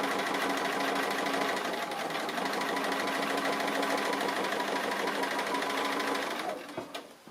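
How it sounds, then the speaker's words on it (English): A sewing machine stitching into a leaf appliqué on a quilted tree piece, its fast steady whir running continuously before slowing and stopping near the end, close and alone. "I'm going to stitch into that leaf while I'm here as well."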